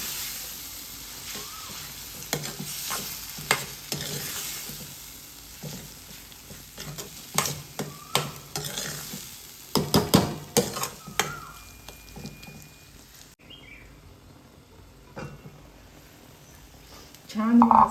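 Brinjal thecha is mixed and cooked in a pan, with close stirring and scraping strokes over a soft sizzle, the clatter growing denser midway before quieting; someone speaks over it at times.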